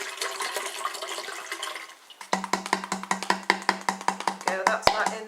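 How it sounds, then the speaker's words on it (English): Liquid from a whole bottle is poured into an old, rusty kettle. A rushing splash comes first, then a quick series of regular glugging pulses as the bottle empties. "So I'm just going to pour the whole bottle"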